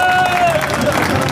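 Applause rolls through a crowd at a political rally in Balotra, a steady wash of clapping with murmuring voices mixed in and a faint thin tone running over it.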